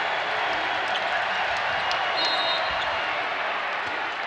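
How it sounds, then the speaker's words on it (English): Broad wash of crowd noise at a women's college basketball game, Oregon State against Nebraska in the NCAA second round, a steady roaring cheer filling the arena throughout. "Crowd loves it"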